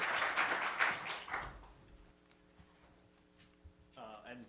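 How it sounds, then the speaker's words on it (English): Conference guests receive a short round of applause from a room audience that fades within two seconds, leaving a faint electrical hum before a voice starts talking. "A round of applause to them."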